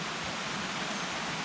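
A stream rushes in a steady broadband wash, a continuous flowing hiss with no voices.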